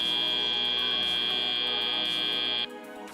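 The end-of-match buzzer sounds at a robotics competition, the Capital City Classic 2025: one loud, steady electronic tone holds for over two seconds, then cuts off abruptly, leaving softer arena noise.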